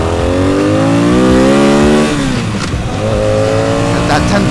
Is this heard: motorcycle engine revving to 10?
yes